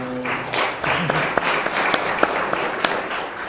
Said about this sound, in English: I think Chris deserves another round of applause